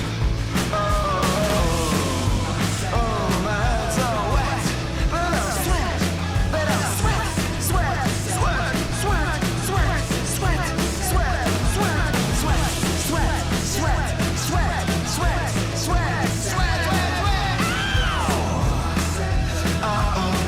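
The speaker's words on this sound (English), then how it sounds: "Love to hear a man scream." A male vocalist screams and yells over a dense, loud rock backing track in a cover song, with the band playing continuously at full volume throughout.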